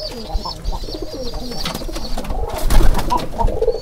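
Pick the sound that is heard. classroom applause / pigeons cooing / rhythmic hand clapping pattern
pigeons cooing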